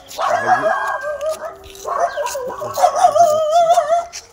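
Several dogs on a path leading to a Shiva ashram temple barking and yelping agitatedly at approaching people, loud and close, with overlapping howling, yipping barks continuing throughout.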